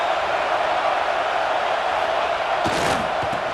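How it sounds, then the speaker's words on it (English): Stadium crowd noise in EA Sports College Football 26 forms a steady, dense roar throughout, with a brief swell of louder shouts near the end. "This crowd bringing the energy and noise early."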